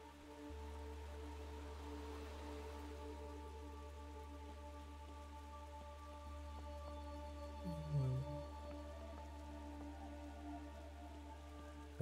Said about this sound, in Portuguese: E parece estar chovendo mais forte.